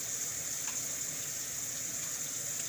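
Tap water runs into a sink while eggs are rinsed, a soft, steady gushing hiss heard at a distance and fairly quiet throughout, with no voices.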